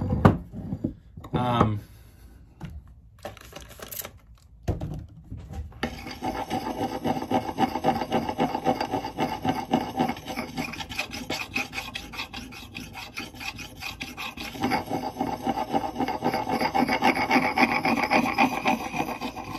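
Rhythmic scraping and rasping of an axe blade worked back and forth across a wet whetstone, steady strokes growing busier, with a voice speaking briefly early on.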